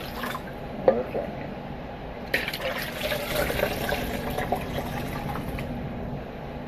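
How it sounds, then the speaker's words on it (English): Regular water poured from a container into a jug of homemade lemonade, making about a quart, gives a close, continuous splashing pour that builds after a few seconds and runs steadily with faint drips. "then you're going to add your last 4 cups of just regular water"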